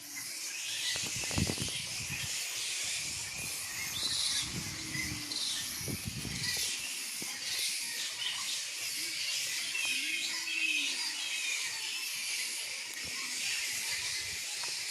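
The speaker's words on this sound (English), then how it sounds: "you can hear the intensity of these flying foxes" A large colony of spectacled flying foxes roosting beside a city library in Cairns keeps up a dense, continuous chorus of shrill chattering and squabbling screeches, with a few louder nearby squawks rising out of the steady din.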